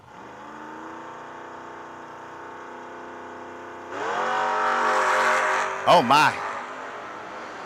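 A Camaro and its opponent launch at a drag strip during an X275 class eliminator, engines droning steadily before a loud roaring surge of revving acceleration; a commentator talks over the run.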